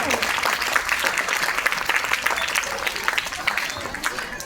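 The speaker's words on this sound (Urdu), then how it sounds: "ان کا استقبال زوردار تالیوں سے کرے" Steady applause from a sizable crowd at a school Independence Day celebration, dense and continuous throughout, slowly tapering toward the end.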